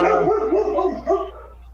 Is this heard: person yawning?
no